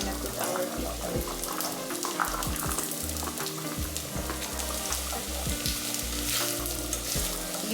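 Beetroot fries and sizzles in a pan at an Indian home kitchen, a steady close crackle with occasional stirring clatter throughout.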